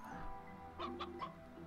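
Chickens in the video game Ys IV: Memories of Celceta give three quick clucks in a row over a faint, steady background, fairly quiet and with no talk.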